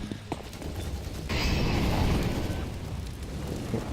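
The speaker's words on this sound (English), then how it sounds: "2 HE grenades over towards Banana. There's the nades" HE grenades explode in the tactical shooter CS:GO during a professional match. A sudden loud blast with a roaring, crackling spread of noise follows some scattered gunfire, then the sound decays into lingering rumble.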